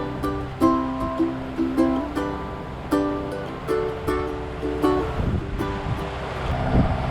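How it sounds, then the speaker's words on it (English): Squally wind and waves on the open sea during a sailing passage roar steadily with gusting surges, and faint tonal rigging or engine hum runs underneath. "you never know what you're going to run into in squally weather out on the open water"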